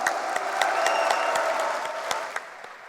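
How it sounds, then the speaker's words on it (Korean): Steady audience applause at a Korean political party presidential primary rally in the Seoul–Incheon region, a dense wash of many hands clapping that holds for about three seconds and eases slightly toward the end. "여러분 박수를 한번 보냅시다."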